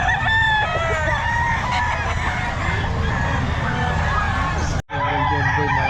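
Gamefowl roosters crowing at a pet market in Bocaue, several birds overlapping in loud, continuous calls with clucking and crowd noise, briefly cutting out near the end.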